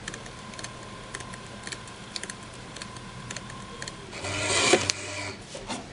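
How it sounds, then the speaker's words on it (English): A label maker prints a 1 inch label, starting with soft ticking and clicks, then a short louder whirring burst of the tape feeding out near the end, close and isolated. "Then I push the print button and send it to the printer."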